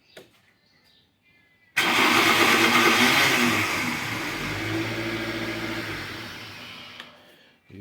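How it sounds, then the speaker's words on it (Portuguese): A Toyota Corolla starter motor makes a rough, unhealthy noise as the engine cranks and catches, bursting in loudly after a quiet moment, then settling into a close idle that fades before a brief click near the end. "toda vez que dá partida no carro, o carro faz um barulho feio aí"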